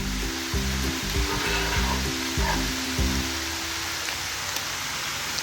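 Tea-time snacks sizzle and crackle in hot oil while a fork stirs them, with a rhythmic series of scraping stirs up front easing into a steady, bubbling fry.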